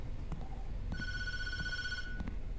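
A telephone rings in the horror game Tattletail, one clear electronic ring burst held for about a second over a low steady background hum, with a few faint clicks around it.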